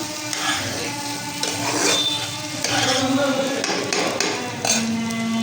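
Noodles and mixed vegetables with capsicum stir-fried in a pan, with clattering spatula scrapes, metallic knocks and a light sizzle; close and fairly loud, a faint voice briefly in the background.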